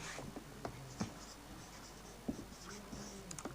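Pen writing on paper during a Hindi maths lesson on real and irrational numbers, with faint scratchy strokes and soft taps at irregular intervals in a quiet room, no talking.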